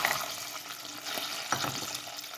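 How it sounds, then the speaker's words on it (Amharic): Dates stirred into melted butter in a pan, a close, soft sizzle with gentle scraping and shuffling strokes continuing steadily throughout. "ቅቤ ላይ ቀስ አድርጌ አማስለዋለሁ።"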